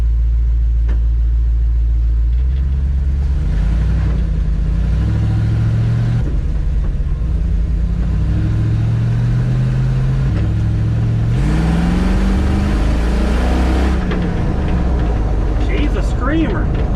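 A 1965 Dodge Ram truck with a fuel-injected engine revs and rumbles loudly as it drives around the block, its pitch rising and falling in repeated pulls and peaking in a harsh scream near the end.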